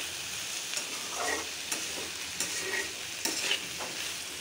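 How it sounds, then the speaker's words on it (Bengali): Bitter gourd and potato fry in a pan with a steady close sizzle, broken by soft scraping stirs every second or so. "প্রথমে চড়িয়ে দিলাম করলা ভাজি"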